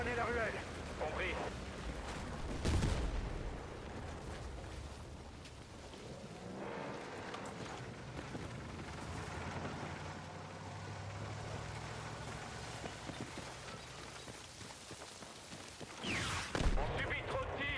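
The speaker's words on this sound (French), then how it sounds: "On subit trop de tirs." Battlefield 6 battle noise, with a loud heavy blast near the start and another near the end over continuous rumbling, crackling combat sound; voices talk at times.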